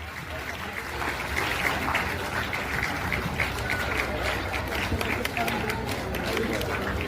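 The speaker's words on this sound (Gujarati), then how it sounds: "આપણે તાળીઓથી આ દરેક આચાર્યશ્રીઓને અભિવાદિત પણ કરીએ" A crowd gathered at a school event claps for the school principals, steady dense applause running throughout under overlapping voices and chatter.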